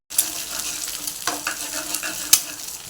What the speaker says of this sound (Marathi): थोडं मीठ टाकूया याच्यामध्ये आणि भुर्जी करून घेऊया अंड्याची